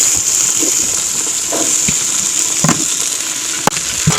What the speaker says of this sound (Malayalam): നമുക്ക് ഉള്ളി ഒന്ന് ആദ്യം ഒന്ന് വഴറ്റിയെടുക്കാം